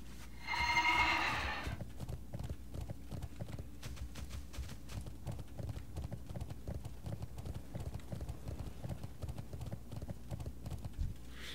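A riding horse in World of Warcraft lets out a short whinny, then its hooves settle into a steady, even clip-clop that keeps a fast rhythm for the rest of the clip at moderate volume.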